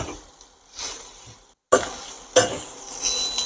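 A spoon stirs and sautés a ground masala paste in a pan while kachori filling is made, giving scraping strokes and a light sizzle in short bursts, with one brief silent gap between them.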